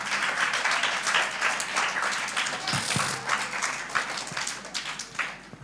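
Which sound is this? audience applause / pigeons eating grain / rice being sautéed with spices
audience applause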